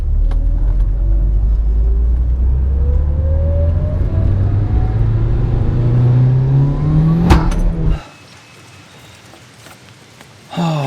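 A modified Mitsubishi Evo 8 engine with a manual boost controller roars loudly through a rising boost run for about eight seconds, then cuts off abruptly to near quiet before a brief return.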